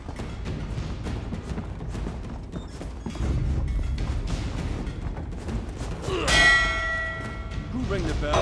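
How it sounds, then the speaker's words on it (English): A bell rung in The Elder Scrolls Online, a loud metallic clang with a long ringing tail that comes after a stretch of clattering mechanical footsteps and creaks, with voices nearby. "Who rang the bell?"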